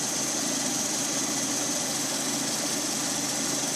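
A Lada Priora 126 engine running after repair, idling with a steady, even hum and a faint rhythmic tick. It sounds close and constant for a few seconds, with no voices.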